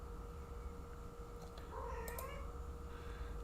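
A cat lets out a short, faint meow under steady electronic hum and room noise in an indoor setting.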